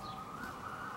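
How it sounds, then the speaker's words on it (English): An emergency vehicle siren wails outside during an indoor makeup routine, a steady, moderately loud tone that holds throughout the brief moment with no talk over it. "Please excuse the sirens."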